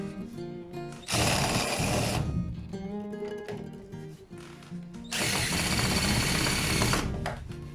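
A power drill drives screws into pre-drilled pilot holes in wood while building garden shelves. Two long, loud bursts of whirring run about a second each, separated by quieter handling and clicks, close by.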